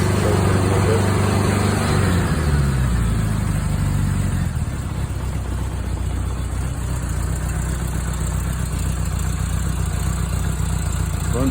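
A 1976 Honda GL1000 LTD motorcycle engine idles steadily at close range, its carbs recently cleaned. Early on the tone shifts with a choke adjustment, then it settles into an even, continuous running drone.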